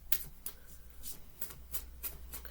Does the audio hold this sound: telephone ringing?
no